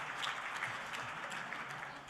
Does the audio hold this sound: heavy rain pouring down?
no